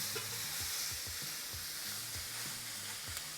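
Seasoned shrimp searing in a pan for creamy garlic shrimp, a steady crackling sizzle with soft intermittent bubbling and shifting, close but fairly quiet, no talking.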